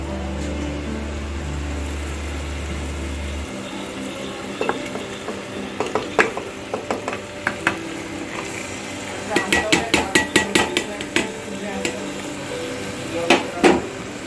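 Marinated chicken is worked into spice masala in a pan, with irregular spoon scrapes and clinks against the metal over a low sizzle, the strokes growing busier and louder partway through and no speech.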